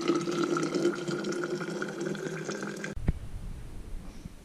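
Boiling water pouring into a Stanley Mountain thermos flask, a steady close rushing fill that stops abruptly near three seconds, followed by a light knock and quiet handling.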